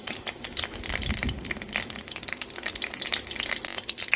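Whole cinnamon and cloves sizzle in hot oil in a kadai, a close, steady crackling fry with dense spitting and popping throughout, no voices over it.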